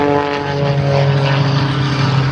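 An aerobatic propeller airplane flying at the 2009 Blue Angels Homecoming Airshow in Pensacola gives a loud, close, steady droning engine roar with strong buzzing harmonics throughout.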